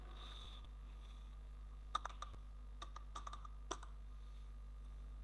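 Keys tapped on a computer keyboard while entering a leave reason into an office software form, a few scattered short bursts of clicks, quiet and close, with no talking.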